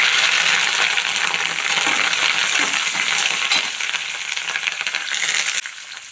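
Dried red chillies, curry leaves and garlic fry in hot oil for tomato chutney, giving a steady, loud, bright sizzle that runs unbroken and drops slightly in level near the end.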